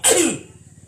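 One loud, close sneeze opens with a sudden burst and fades within half a second into a quiet room, with faint voices afterward.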